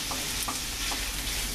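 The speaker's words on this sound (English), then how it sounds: "Okay, we're just going to brown up this meat." Beef sizzles and fries in a pot while browning for German goulash soup, a steady close hiss broken by a few soft stirring scrapes, with no talking.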